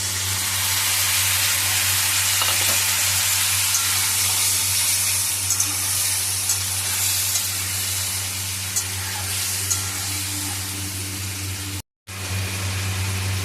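Tomato, soy and red chili sauce mixture poured into a pan of frying chili chicken, giving a steady, loud, broad hiss of sizzling with a low hum beneath and a brief dropout near the end; no talking.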